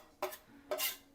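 Chopped onions stirred into a flour, butter and plant-based sausage crumble in a pot, two quiet scraping strokes of a utensil a half-second apart.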